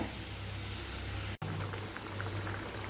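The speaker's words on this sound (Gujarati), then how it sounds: "શાકને એકદમ મસ્ત એવું ઉકળવા દેવાનું છે સાદી ભાષામાં કહીએ તો આને ખદખદવા દેવાનું છે" A pot of Kathiyawadi boiled-potato curry in a spicy gravy simmers on the stove, giving a faint, steady hiss of soft bubbling that runs on alone, broken only by a split-second dropout.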